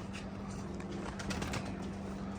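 Pigeons coo softly at a loft while being flown, low faint murmuring calls repeating over a steady background hum, no voices.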